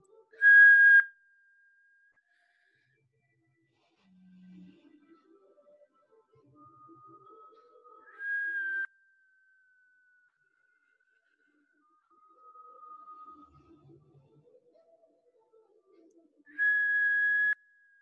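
Long, steady whistled tones during a guided breathing exercise, three sustained whistles, each held for a couple of seconds and separated by quieter breathing and faint murmuring between them.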